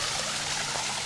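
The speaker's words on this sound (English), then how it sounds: "This is the river we're going to cross." A river flows steadily past outdoors, a continuous broadband rush of moving water, fairly faint and even, with no voices over it.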